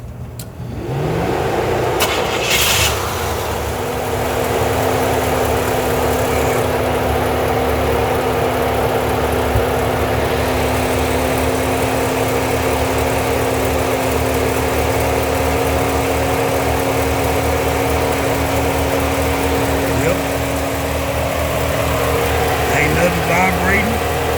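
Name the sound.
old Chevrolet Suburban engine cranking and idling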